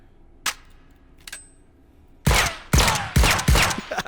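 SMG fire in the VR shooter H3VR: after two faint handling clicks, four loud, sharp bursts of gunfire crack close by in quick succession, with no voices.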